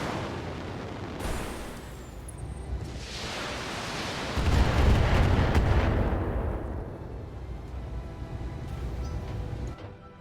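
Heavy weapons fire pounds a mech in the BattleTech video game, a dense, continuous barrage of booming impacts and bursts that swells loudest midway before easing slightly, with no talking.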